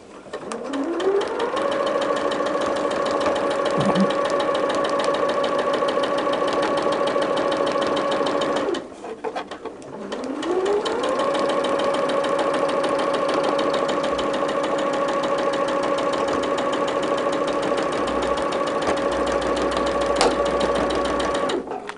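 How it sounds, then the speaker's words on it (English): A sewing machine stitches gingham fabric for a shamrock quilt block, its motor whirring loud and close in two long steady runs with a short pause between them. "And then we're just going to sew."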